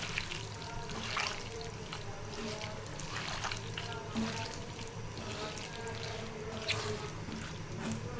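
Water poured into a pot of beef being cooked for lunch, a steady trickling pour with soft splashes at moderate level, a few brief louder bursts and faint low kitchen noise underneath.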